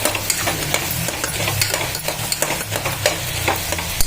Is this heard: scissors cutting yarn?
no